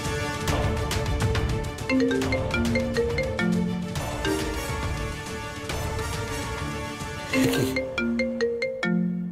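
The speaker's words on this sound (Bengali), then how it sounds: "সেই নাম্বার থেকে ফোন করি" An incoming call sets off a mobile phone ringtone, a loud, close melodic tune that repeats its bright phrases steadily for several seconds with no talking over it.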